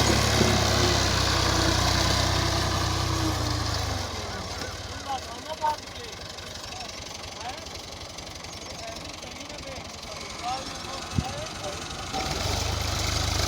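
An Al-Ghazi tractor engine runs at a steady knocking idle, close and loud, drops to a lower, quieter rumble for most of the stretch with a few clanks, then rises again near the end.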